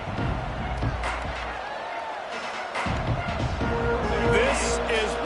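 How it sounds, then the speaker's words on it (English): Football stadium crowd in a video game, a broad crowd roar with cheering and scattered thumps rising toward the end, under a commentator's voice. "This crowd ready to make its presence known."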